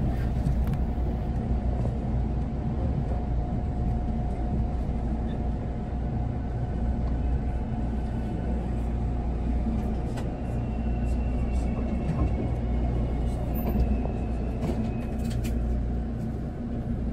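A train running from Hakata pulls into Takeo Onsen station, the start of the West Kyushu Shinkansen, heard from on board as a steady, loud rumble with a faint hum that continues unbroken throughout.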